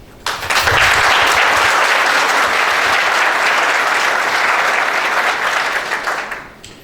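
Wedding guests at a civil marriage ceremony burst into loud, dense applause that holds steady for about six seconds before fading away.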